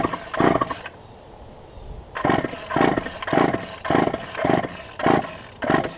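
Repeated pull-start attempts on a Craftsman 2.3 14-inch chainsaw: a short burst, a pause, then a steady run of rhythmic rope pulls, each a brief rasping sputter close to the microphone.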